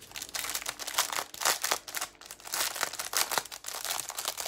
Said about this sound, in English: So excuse the crinkling noise for a moment while I open this packet.